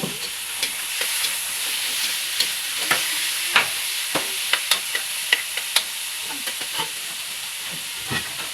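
A utensil scrapes and clacks repeatedly against a pot while chicken breast sizzles underneath, in an uneven stirring rhythm close by.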